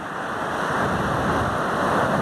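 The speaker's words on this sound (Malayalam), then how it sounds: "കടൽ അത്യാവശ്യം നല്ല തിരയുണ്ട് കേട്ടോ." Ocean surf rolls onto Kovalam beach in a steady, unbroken roar of breaking waves, fairly loud and close, with a windy hiss and no voices.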